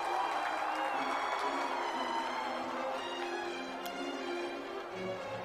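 An audience at Bhagwant Maan's oath ceremony in Khatkar Kalan applauds the ministers with a sustained, even wash of clapping that slowly fades, heard at a distance over a microphone.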